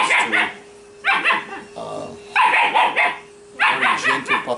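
A six-week-old German Shepherd puppy yips and barks in four short, close bursts with brief pauses, one whimpering whine in between.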